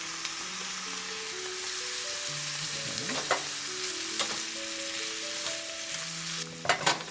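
Chorizo frying in a hot pan gives a steady, even sizzle throughout, with a few brief clinks and scrapes of stirring near the end.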